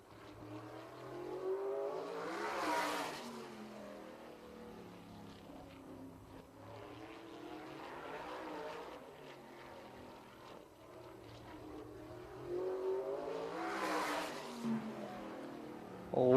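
A sprint car engine roars around Anderson Speedway during Little 500 qualifying, swelling loudly as the car passes close at the start and again near the end, with a fainter, steady drone in between.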